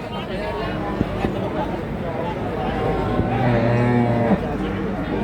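At the Jatirogo cattle market, a cow moos in a low, drawn-out call, loud and nearby, amid the murmur of people talking.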